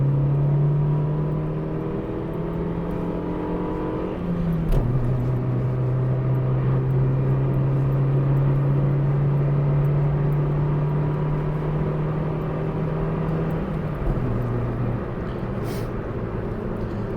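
A 1-litre Nissan Micra K11 accelerates up a slight hill toward 60 mph, its engine a steady close drone that climbs in pitch, with gear changes near the start and again toward the end.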